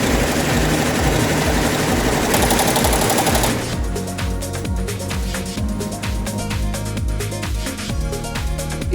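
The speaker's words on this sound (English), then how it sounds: "the machine, all of the heads are working now." A multi-head embroidery machine runs with all heads working, a loud continuous rapid mechanical chatter of needles, dense and steady at first, then settling into a sharper repeating clatter, close and alone.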